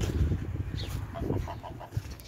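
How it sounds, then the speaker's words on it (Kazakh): Farm geese, two ganders and three females, calling close by in a short burst of honks and clucks over a low rumbling background. "Мына біздің қаздарымыз"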